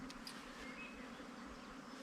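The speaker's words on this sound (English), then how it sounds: "That's our swarm." A swarm of honey bees hums softly and continuously, a faint, even buzzing drone without pause over quiet outdoor background.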